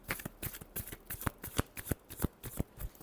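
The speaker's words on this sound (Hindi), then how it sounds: "Last shuffle, last shuffle." Tarot cards are shuffled in a brisk riffle of about ten sharp, evenly spaced slaps and flutters, close and clear with no talking.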